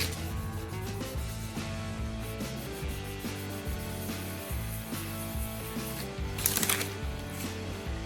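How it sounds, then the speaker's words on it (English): Truck paint on a Chevy C10 squarebody is wet-sanded by hand with 1000 grit sandpaper, giving repeated close rhythmic rubbing strokes under background music. "Just want to sand enough to make it go away."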